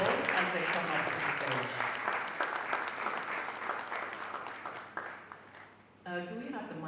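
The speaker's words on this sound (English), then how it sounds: "Please give them a round of applause as they come up to" Audience at a nonprofit summit applauds as guests walk up to the stage, a full round of clapping that gradually thins and fades, followed at the end by a voice speaking.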